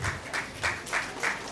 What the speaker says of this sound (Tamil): கைத்தட்டலுடன் வரவேற்கிறேன்.